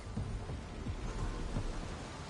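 Heavy rain hisses steadily in the Mass Effect Andromeda video game while low thunder rumbles roll underneath, a continuous, moderately loud storm bed with no voices.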